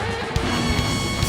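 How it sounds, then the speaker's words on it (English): A guitar smashed onto a stage monitor during a live TV music performance: a few sharp crashing impacts rise over a loud, dense wash of stage noise in a very short burst. "She's smashing the monitor."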